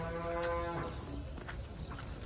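A single loud cow moo, a long low bellow on a cattle farm in Saudi Arabia, fading after about a second into quiet farmyard background with soft scattered knocks.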